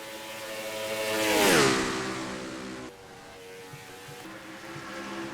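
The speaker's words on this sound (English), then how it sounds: "you could hear the lap cars go off into the distance on camera" Lapped stock cars in a racing video game at a 600-mile oval race roar past with a rising then falling engine whine, fading into the distance as a lower drone continues.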